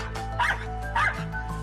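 A schnauzer barks at strangers in a few sharp, close yips and bow-wows, evenly spaced over a low steady background hum, with no talking.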